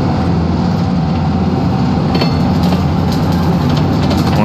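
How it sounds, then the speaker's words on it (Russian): Freight train rolling in within the city-builder game Cities Skylines II, a steady loud rumble of rail and engine noise with faint clattering wheels, continuous and close, with no talking. "грузовой поезд как раз заходит"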